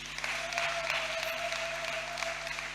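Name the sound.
church congregation applauding the Lord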